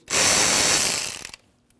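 A 5.5 mm hose clamp on the throttle body air tube of a 2012-2016 Honda CR-V 2.4L being loosened, a close, loud burst of ratcheting tool clicks lasting about a second before it stops.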